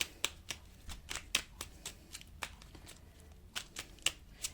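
Angel cards being shuffled by hand, a quick run of crisp riffling flicks and taps in an uneven rhythm, close and fairly soft.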